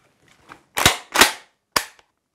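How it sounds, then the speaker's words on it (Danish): A tube-magazine gun has its action worked and is fired, in a demonstration of a firearm for self-defence. Two loud, close metallic racks or shots come in quick succession, then a third sharp bang and a faint click, with no speech. "det eneste, du skal gøre, når du skal afgive skud, det er at tage ladegreb og skyde."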